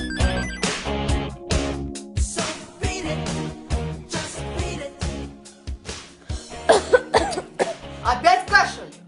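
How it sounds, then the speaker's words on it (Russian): A person coughs repeatedly in uneven bursts, with throat-clearing and short spoken exchanges between the fits of coughing. "Опять кашель?"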